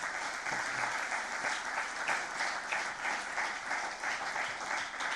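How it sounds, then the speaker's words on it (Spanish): A church congregation gives loud, sustained applause, dense steady clapping from many hands filling the room without pause. "Le damos un aplauso grande."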